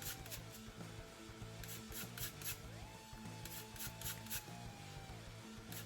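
Lemon zest rasped off on a grater in a kitchen, a steady rubbing scrape repeating in short close strokes with no talk.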